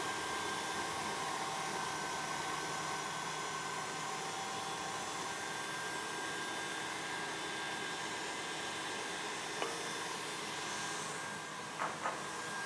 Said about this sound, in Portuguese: Bater até transformar em um creme leve e fofo, meio esbranquiçado